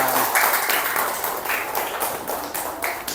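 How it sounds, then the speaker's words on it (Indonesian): An audience in an Indonesian classroom lesson claps for a student who came to the front, a short burst of scattered, moderately close applause. "Ya, boleh tepuk tangan untuk Ajis untuk berani ke depan."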